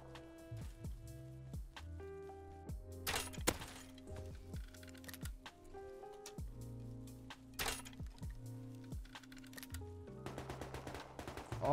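Automated turret gunfire in a survival video game, rapid cracking bursts and scattered shots over a dense, tonal game soundtrack, fairly loud and continuous with no talk.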